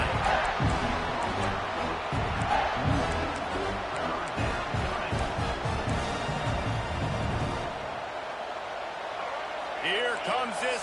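Home crowd at a college football game between FSU and Clemson roars loudly and continuously as the defense faces third down, a dense stadium wash under a play-by-play commentator talking throughout.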